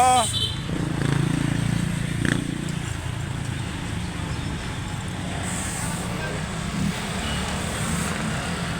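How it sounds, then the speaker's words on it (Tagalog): A motorbike engine idles and revs nearby, a steady rumbling drone that stays prominent and fairly loud throughout, with brief higher tones near the start. "Ganda ng tunog ng bike mo, Joshua."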